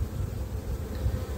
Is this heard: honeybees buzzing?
yes